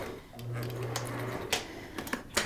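A sewing machine double-stitches knit fabric for a turban, giving a short, faint mechanical hum followed by a few light clicks and taps.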